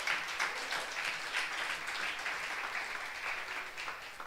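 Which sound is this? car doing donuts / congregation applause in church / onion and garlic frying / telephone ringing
congregation applause in church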